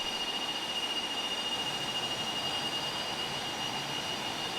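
A simulated T-37 Tweet jet taxiing toward the runway in Flight Simulator gives off a steady, even whine and broadband roar, with a constant high tone on top. It is moderately loud and stays unchanged throughout, with no voices.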